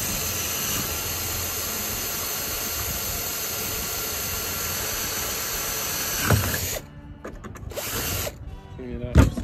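A power drill with a 3/16 bit whines loudly and steadily for several seconds, then stops and restarts in short bursts, drilling rivet holes in clamped parts of a golf cart.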